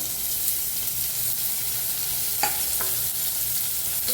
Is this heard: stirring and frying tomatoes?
yes